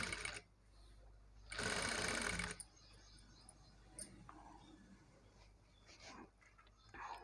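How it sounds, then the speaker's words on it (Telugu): A sewing machine stitches invisible piping onto a garment neckline, running in a short slow burst followed by quiet handling noises, faint and close. "నేనైతే ఇలా మెల్లిగా స్టిచ్ చేసుకుంటూ వస్తున్నానండి"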